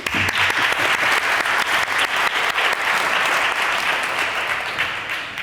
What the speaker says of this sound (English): Let's give her a big old hand.